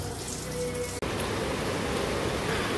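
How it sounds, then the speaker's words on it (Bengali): Heavy outdoor rain pours in a dense, loud, continuous hiss, with a brief dropout about a second in. "আর এদিকে দেখো কি পরিমাণে বৃষ্টি শুরু হয়েছে"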